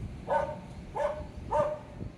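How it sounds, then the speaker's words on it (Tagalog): A dog barks three times in a steady rhythm at a moderate distance outdoors, each bark short and sharp over a low background hum. "Grabing aso yun. Naiingay."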